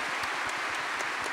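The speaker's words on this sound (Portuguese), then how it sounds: "Vamos aplaudir essa mulher maravilhosa." Studio audience applauding during a Brazilian morning talk show, a steady broadband patter of many hands at moderate volume, continuous and fairly even with no voices over it.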